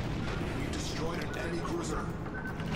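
Heavy naval gunfire from warships in World of Warships, a dense continuous roar of artillery booms and blasts filling the scene, with excited voices talking over it.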